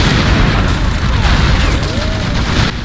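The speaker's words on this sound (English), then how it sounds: "Oh, you had to throw that grenade at me" Loud, dense battle noise from the World War II game Faces of War, with a grenade explosion and booming blasts amid continuous gunfire and rumble throughout.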